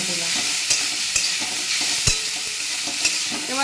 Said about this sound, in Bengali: এবার এটাকে আমি হালকা করে সটে করে নেব। ফ্লেমটা বেশ হাইতেই রেখেছি